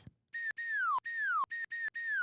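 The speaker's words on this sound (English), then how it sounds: "Slide whistle remix." A slide whistle plays a quick remix of repeated descending swoops, each gliding tone separated by brief sharp cuts, loud and close with no talking.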